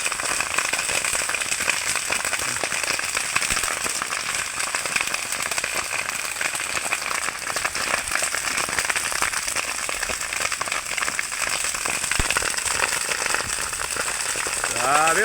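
A grass fire burns close by in Subic, Zambales, with a dense, continuous crackling and popping that stays loud and steady throughout.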